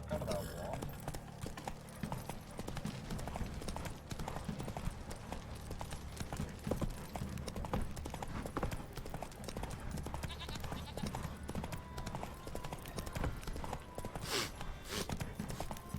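Hoofbeats of the horse Roach clop steadily in The Witcher 3, an ongoing rhythmic clip-clop under game music and spoken dialogue.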